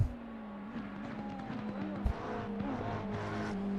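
Race car engine in a sim racing game, revving along the back straight toward the last turn with a Ferrari close behind, a steady close engine whine with gear-change pitch shifts and a brief bump.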